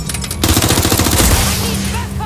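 Rapid automatic gunfire from a firefight in Watch Dogs Legion, loud bursts of shots rattling continuously, with a steady low engine-like hum underneath.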